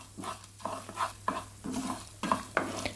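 Black pepper and cumin dry-roast in a pan over a low flame, stirred with about eight rhythmic scraping strokes of a spoon, each a soft gritty rasp over a faint low hum. Quiet and close, with no talking.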